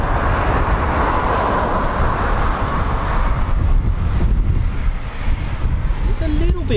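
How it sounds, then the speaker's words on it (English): Wind buffeting an outdoor microphone at RAF Coningsby, a loud continuous rumbling roar that stays strong throughout and briefly eases near the end as a faint distant tone shows through. "It's a little bit windy, but let's hope all is okay."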